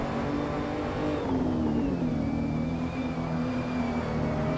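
BMW M235i race cars from a virtual racing cup run wheel to wheel at the Nürburgring in a video game, with a loud, sustained engine drone whose pitch dips and then settles.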